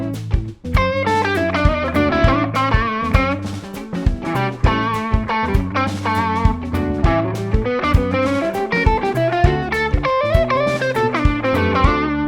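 An electric guitar plays a flowing, ascending jazz-style 2-5-1 lick in E Dorian over blues, with distorted, effects-laden tone, notes picked in a steady run and ringing chords beneath.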